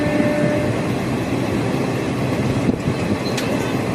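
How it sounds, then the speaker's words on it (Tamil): Train no. 06190 from Trichy to Chengalpattu pulls into Papanasam station, a loud continuous rumble of wheels and carriages with faint clacks and a short metallic squeal near the end, heard from inside the train. "இதை வந்து பாபநாசம் ஸ்டேஷன் தான் நம்ம ட்ரெயின் என்ட்ரு ஆகும் போது பாருங்கள்"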